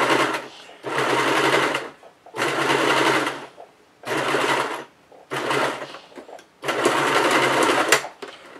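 Sewing machine stitching a dice bag, running in loud, close bursts of rapid mechanical whirring, about six runs each lasting one to two seconds with brief pauses between them.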